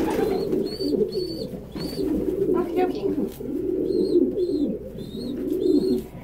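Pigeons or doves coo in soft repeated phrases at treat time, close by, mixed with a few higher chirps, while a person says a brief phrase over them.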